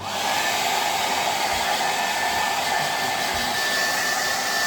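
A hair dryer blows continuously at close range, a steady loud whooshing hum with no pauses.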